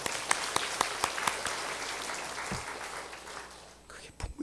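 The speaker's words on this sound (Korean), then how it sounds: "우리 반주자들 고생 많습니다. 박수 한번 쳐줘요." A church congregation claps for the accompanists, a dense run of hand claps with sharp individual strikes standing out near the start, steady through the clip and thinning toward the end.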